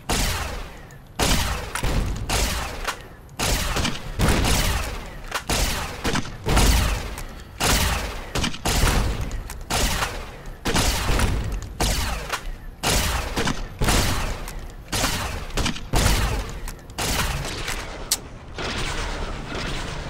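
The thump-thump grenade launcher in the game Fallout New Vegas, loud rapid repeated launches and blasts in regular bursts with brief gaps between, heavy booming low end throughout.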